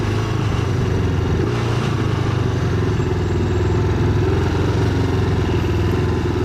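Motorcycle engine running steadily at a low idle, a continuous close rumble with a faint clatter and no speech.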